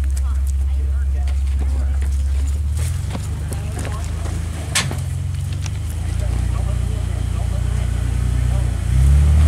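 A vehicle engine labours and revs at low pitch on the rocky Waterfall trail along Box Canyon Road near Florence, Arizona, a steady loud rumble that rises near the end, with occasional voices over it.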